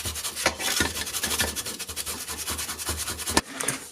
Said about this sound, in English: I'm just going to sand these down a little flatter